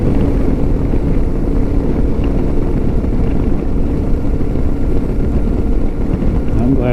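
A 2025 Lifan KPT 400 motorcycle being ridden, its engine giving a steady, loud low drone with constant wind-like rumble throughout, no pauses or gear-change breaks standing out.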